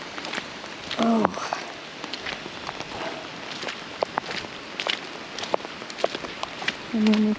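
Steady outdoor rain patters on surfaces as wind blows it in, a soft continuous wash of drops with a voice speaking briefly near the start and again at the end.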